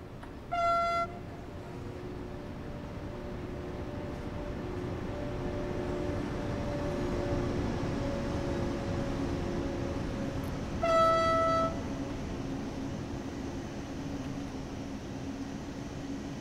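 ÖBB 1116 Taurus electric locomotive in Train Sim World 4 on the Semmering railway, a steady rolling rumble throughout with two loud horn blasts, one near the start and one later.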